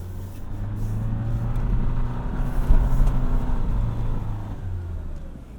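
A 2024 Toyota Land Cruiser 1958 crawls slowly over off-road terrain, its engine giving a steady low hum with a gentle rise and fall in load, heard from inside the cabin without talk.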